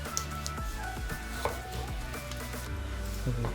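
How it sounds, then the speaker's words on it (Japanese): Garlic is minced with a knife on a cutting board, a quick run of close, even chopping taps repeated throughout; no one speaks. "ニンニクみじん切りにします"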